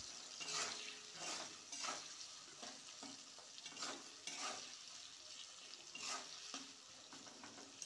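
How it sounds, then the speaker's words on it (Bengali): Onions frying in a pan give a soft, steady sizzle, with a spoon scraping and stirring at regular intervals. The sound stays fairly quiet and close, with no talking. "দেখো এখানে পেঁয়াজটা ভাজা হবে"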